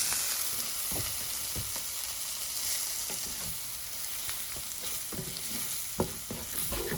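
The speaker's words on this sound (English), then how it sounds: "We'll scramble the eggs." Eggs being scrambled in a cast iron pan off the heat, a continuous close sizzle with repeated scraping and stirring knocks of a utensil against the pan.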